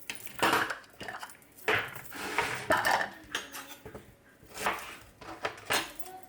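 A Tornado manual pull chopper works through onions with repeated clattering, rattling bursts of plastic and blades, close and fairly loud, with uneven rhythm and brief pauses.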